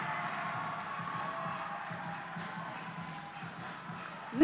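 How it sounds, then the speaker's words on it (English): Crowd cheering and applauding for a fencer at a World Fencing League event in Los Angeles, a steady wash of distant arena noise that carries on without a break. "Big cheer for him."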